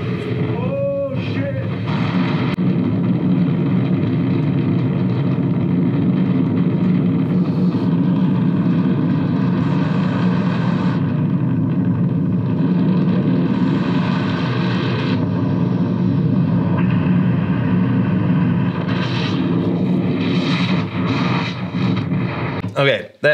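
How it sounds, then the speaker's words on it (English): Small airplane engine droning loudly and continuously while the aircraft buffets near a stall, a heavy rumbling roar with slight wavering, sustained close up from start to finish. "that thing's like buffeting on stall right now"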